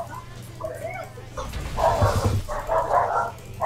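A small dog barks in several short yips and whimpers, fairly close and lively over a faint background hum.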